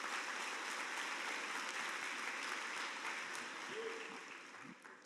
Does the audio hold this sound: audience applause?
yes